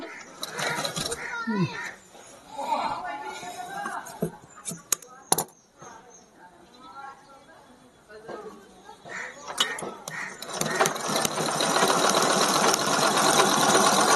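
A zigzag pico sewing machine stitches a saree fall, starting and stopping in short bursts of rapid mechanical clatter before a sustained loud run of stitching at the end, with someone talking over the earlier parts.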